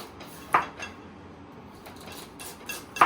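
A knife slices a carrot into thin rounds on a board, giving two sharp, close cutting knocks about two and a half seconds apart over a quiet room background.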